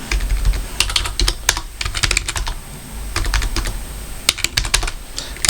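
Close, brisk typing of code on a computer keyboard, irregular bursts of crisp key clicks with short pauses between runs of keystrokes, no voices.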